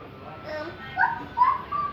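A young child imitates a dog barking with a few short, yappy vocal bursts, two louder yips near the end, voiced rather than made by a real animal.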